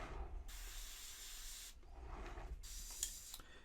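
An airbrush hisses paint onto a miniature figure's skin base coat in two bursts of faint, steady spray separated by a quieter pause.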